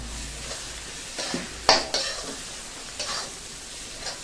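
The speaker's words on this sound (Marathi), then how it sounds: "थोडंसं कूट मी याच्यामध्ये घातलंय फोडणीमध्ये कांदा परतताना." Chopped onion sautéing in a hot tempering with a little crushed peanut powder, stirred with a spoon: a soft sizzle with a sharp scrape and a few clinks against the pan.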